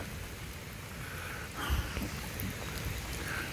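Steady rain falls outdoors on Coconut Island in Hilo, Hawaii, producing a dense, even hiss with a slight swell partway through and no voices.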